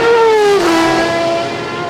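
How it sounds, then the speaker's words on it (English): The number 92 Viper race car, fitted with a V10 engine, roars past at the 1999 IMSA Grand Prix of Mosport, its loud engine note dropping sharply in pitch as it sweeps by and fades. "that is the Viper that has run so smoothly today"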